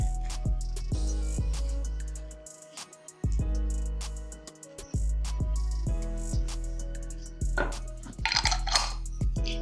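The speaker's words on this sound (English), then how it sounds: "you close the lid and turn upside down" Glass jars of hot mulberry jam being capped and turned upside down: sharp clinks and taps of lids and glass on a counter, scattered and close, against a steady low kitchen hum.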